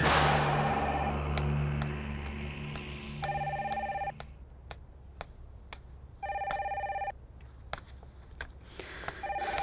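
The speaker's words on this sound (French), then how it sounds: "Et ne réponds pas au téléphone." An electronic telephone rings in a French-dubbed TV drama, sounding in three repeated trilling bursts separated by short gaps, alongside other clicks and room sounds.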